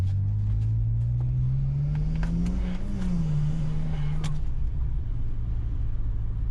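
A BMW 335 with a new Flowtech Raptor exhaust idles with a deep, steady low rumble and exhaust drone, rising briefly in pitch as it revs, then settling back to idle.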